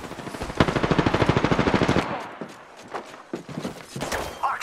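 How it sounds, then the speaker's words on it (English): Enemy automatic fire in a video game, a rapid, evenly spaced burst of loud shots for about two seconds, then scattered single shots and impacts under in-game voices. "They're shooting at me!"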